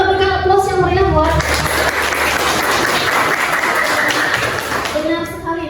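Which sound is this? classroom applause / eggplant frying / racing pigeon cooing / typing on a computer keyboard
classroom applause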